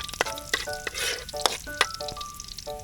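Garlic sizzling and frying in a pan for pancit canton, crackling bursts under a spatula scraping and stirring, close up with no talking.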